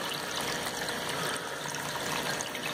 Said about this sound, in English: I also have this filter, you know, it's kind of a small waterfall.